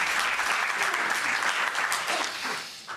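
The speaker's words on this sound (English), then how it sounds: "Round of applause." Studio audience applause on the Australian game show Pointless, a steady dense wash of clapping throughout that eases slightly toward the end.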